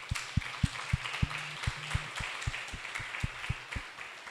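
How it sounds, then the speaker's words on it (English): Sparse applause with regular, distinct claps over a soft background wash, fairly faint, like a small audience clapping at a conference meeting. "Let's give them a round of applause."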